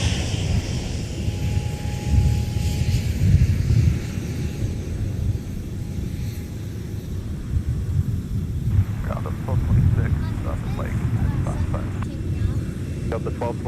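A Sun Country airliner taxis at Minneapolis–St. Paul airport, its engines a steady low rumble and whine with broadband noise throughout. Distant voices are heard now and then.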